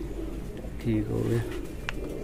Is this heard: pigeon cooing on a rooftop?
yes